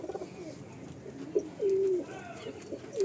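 Female pigeons at a home loft coo nearby, giving soft low throaty calls, one drawn-out coo and several shorter ones, with faint background noise.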